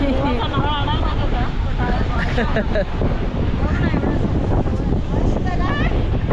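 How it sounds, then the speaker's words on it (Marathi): Strong wind buffets the microphone at a scenic viewpoint in Mumbai, a constant loud roar with gusty rumble throughout, while people talk over it. "आता वारा किती आहे छत्रीवरून बघा"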